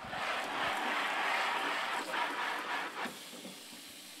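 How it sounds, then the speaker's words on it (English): A garden hose sprays water onto a freshly burned silk screen to wash it out, a close, steady broadband hiss that eases slightly toward the end, no talking. "if you have a hose like this, it's nice to lighten the pressure"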